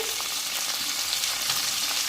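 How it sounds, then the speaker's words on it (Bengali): Chopped onion and tomato fry in a pan with a steady, bright sizzle and faint crackling pops, heard alone and fairly close. "এখানে আমি একটা পেঁয়াজ কুচিয়ে দিয়ে দিয়েছি দিয়ে ভাজা ভাজা করে নেব"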